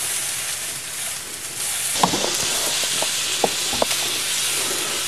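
Tomatoes and onions sizzle steadily as they char in a hot pan, a dense continuous frying hiss with a few sharp pops and crackles near the end, no voices.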